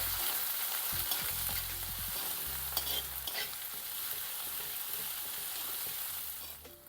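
Thecha is stirred into a pan with fenugreek leaves and ajwain, a soft continuous frying sizzle broken by spoon scrapes and clatters against the pan, close and moderately quiet.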